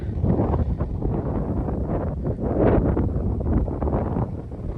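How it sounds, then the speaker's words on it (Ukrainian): Strong wind on a hilltop buffets the microphone in rough, roaring gusts, loud and continuous, with no voices. "виліз я на такий горб, сильний вітер"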